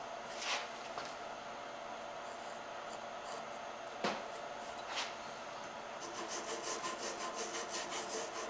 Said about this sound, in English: Don't hesitate to cut this a little deeper with the X-Acto.